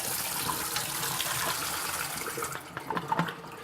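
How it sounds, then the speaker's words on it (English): Film developing liquid pours steadily out of a developing tank holding reels of film, a continuous close splashing gush for about two and a half seconds that thins into a few drips and light clinks. "All right, so I'm going to pour this out."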